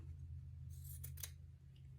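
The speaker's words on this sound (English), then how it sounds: "Let's trim the selvage off." Scissors snip through the selvage edge of quilting fabric, two quick close cuts over a low steady hum, with no talk.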